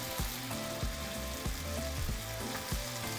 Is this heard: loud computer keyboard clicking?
no